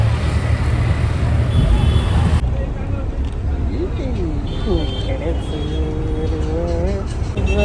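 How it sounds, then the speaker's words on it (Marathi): Steady, loud Mumbai road traffic roars with a constant rumble of engines, and voices join partway through over the noise. "हे मुंबईचे ट्रॅफिक"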